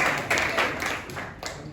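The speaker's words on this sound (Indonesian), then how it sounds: "Tepuk tangan itu." Students in a classroom clap together, a short burst of applause with a few uneven sharper slaps, fairly close and filling the space.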